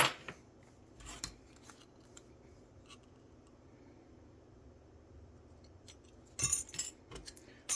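Small scissors snip a sunshade piece for an Athearn GP35 model locomotive, with a few quiet cuts early on and a louder cluster of crisp snips near the end, close by in a quiet room.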